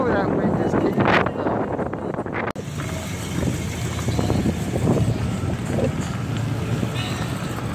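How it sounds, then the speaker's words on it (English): Wind rushes and buffets across the microphone outdoors at a Friday night muscle car cruise, a steady loud roar that fills the whole stretch with a brief dip midway. "that wind is kicking up"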